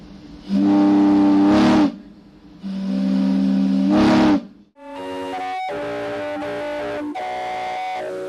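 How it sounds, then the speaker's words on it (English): Steam calliope whistles aboard an Ohio River steamboat, two long loud sustained blasts followed by a run of shifting whistle notes played as a tune, rich and hissing with steam. "Some might argue that the Calliope sounded best from the riverbanks,"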